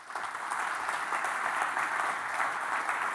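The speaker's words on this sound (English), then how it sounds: "Let's give them a huge round of applause." A large conference audience applauds steadily for sponsors at a tech keynote event, a dense, sustained wash of clapping with no talk over it.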